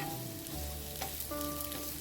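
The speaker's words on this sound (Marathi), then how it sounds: "त्यात टाकायचा आहे कांदा, उभा पातळ चिरून घेतलेला कांदा टाकायचा आहे" Thinly sliced onion frying in two spoons of hot oil for a Maharashtrian matki gravy masala, a close, continuous sizzle with light stirring scrapes and no talking.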